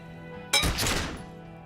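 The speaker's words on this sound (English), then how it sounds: "A small explosion expels the bullet from the chamber" A single sharp gunshot fires in a video game, a sudden loud crack that trails into a short rumbling decay, heard alone.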